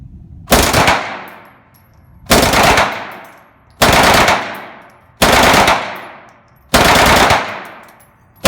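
A roughly 80-year-old Second World War German 9mm machine gun fires five loud, separate bursts at regular intervals, each a dense rattle of rapid shots with a ringing tail that fades before the next.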